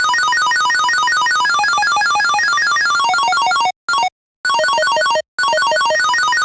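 A fast, bright square-wave synth arpeggio cycles rapidly through chiptune-style notes, loud and continuous apart from a few abrupt brief dropouts.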